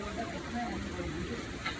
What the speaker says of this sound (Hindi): अभी तो बारिश हो रही है।